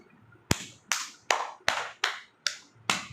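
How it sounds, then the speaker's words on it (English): Seven sharp hand claps, evenly spaced about half a second apart in a quiet room, each crisp and close with a short decay. "First, the fluffy will clap."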